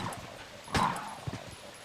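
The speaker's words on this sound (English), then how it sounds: "Too many dogs." Zombie dogs in a Resident Evil game giving a sharp yip and whimper over a steady background rumble, with a fainter second bark shortly after.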